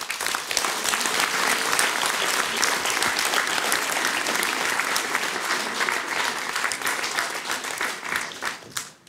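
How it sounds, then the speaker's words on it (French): A town hall audience at a mayor's New Year address in Palaiseau applauds warmly in a dense, sustained wave of clapping that tapers off at the end. "ils méritent aussi qu'on les applaudisse bien fort."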